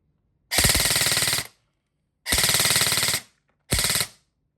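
Electric airsoft HK416A5 firing BBs on full auto: three rapid bursts, the first two about a second long and the last shorter, loud and close with silence between.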